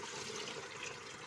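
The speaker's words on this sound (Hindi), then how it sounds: "अब हम इसमें डालेंगे पानी" Water pours steadily into a pot of browned turnips and meat for shaljam gosht curry, a continuous close splashing rush with no talking.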